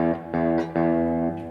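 A few loud, overdriven electric guitar chords strummed in quick succession, each ringing with a slight reverb tail.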